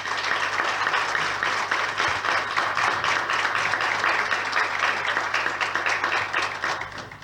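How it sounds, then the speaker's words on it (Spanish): An audience at a regional health conference opening session in Trenque Lauquen, Argentina, breaks into steady applause, dense clapping that holds at an even level throughout without any talk. "acá sí pido un aplauso para la nueva filial en formación de Trenquelauquen"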